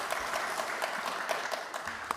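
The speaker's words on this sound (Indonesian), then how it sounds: "Tepuk tangan dulu buat kita semua." Light, scattered clapping from a small group in a meeting room, soft and somewhat distant, with faint murmuring beneath.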